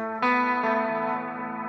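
Electric guitar played through a pedal set to heavy modulated reverb, a sustained chord struck twice that swells into shimmering, chorus-like repeating washes, loud and close, fading slowly with no voices.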